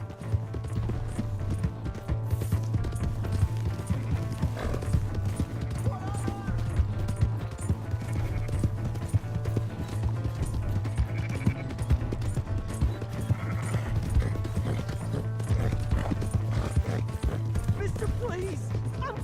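Horse hooves galloping in Red Dead Redemption 2, a fast, steady clip-clop that runs throughout under frequent shouted voices and game sounds.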